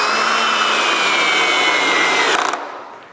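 A power drill drives screws at a slight angle into a wooden saw fence, a loud steady whirring that runs continuously and then winds down at the end.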